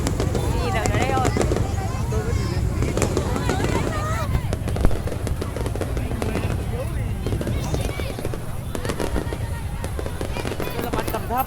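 Low-altitude fireworks burst in a dense, continuous crackling barrage at the Lim Festival, with crowd chatter and voices running underneath throughout.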